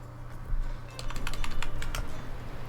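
Quick bursts of keystrokes on a computer keyboard over a low fan-like hum, the clatter coming in short irregular runs at close range.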